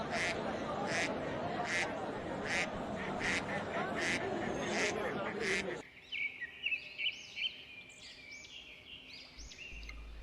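Young cartoon ducks quack in quick repeated bursts, loud and close, first over a busy background and then more sparsely in a quieter stretch.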